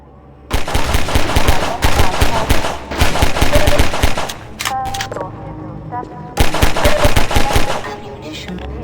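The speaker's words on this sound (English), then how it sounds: "the pistol employs a refire mechanic that's unique to it in the game" A pistol fires in rapid bursts in the video game Half-Life 2, with loud, sharp, closely spaced shots in several runs of fast clicks separated by brief pauses.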